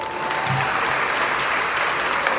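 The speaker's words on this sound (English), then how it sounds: "Let's give them another round of applause." Steady, dense applause from a school audience at an elementary school event, filling the whole stretch at even loudness with a faint voice or two underneath.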